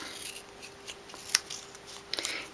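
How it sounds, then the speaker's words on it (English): Scissors cutting paper during a card-making craft, a few faint, quiet snips and rustles with one sharper click in the middle, close to the listener and otherwise quiet. "I got one here that I prepare, cut it in two"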